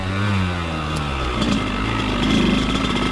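A 1999 Kawasaki KX80 two-stroke dirt bike engine screams at high revs on a trail, a loud, steady buzzing drone close by that rises slightly toward the end, with no voices over it.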